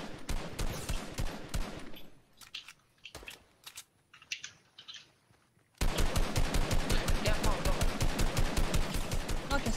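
Sniper rifle fire and rapid automatic gunfire in the video game Fortnite, with dense bursts of shots, a quieter gap holding a few single shots, then a long loud stretch of continuous firing.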